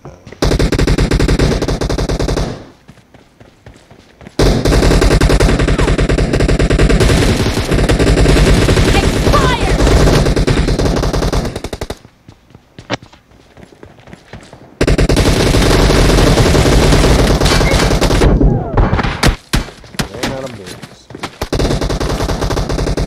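Game gunfire in a team deathmatch: long, loud stretches of rapid automatic fire, broken by two short quiet gaps, then a final run of scattered shots.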